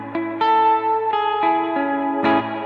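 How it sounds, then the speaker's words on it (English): Plucked guitar notes through a reverb pedal on a MIDI pedalboard ring out with a heavy oil-drum-style reverb wash, each chord blooming and sustaining into a metallic, echoing tail. "Oil drum kind of reverby thing."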